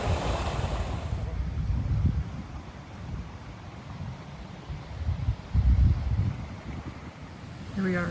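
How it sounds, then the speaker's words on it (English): Tuttle Creek flows beside a campground in the Alabama Hills, California, early in the morning, a continuous rushing wash of water mixed with wind buffeting the microphone and occasional low rumbling gusts. "Hopefully you can hear the Tuttle Creek in the background because our campsite backs right onto the creek."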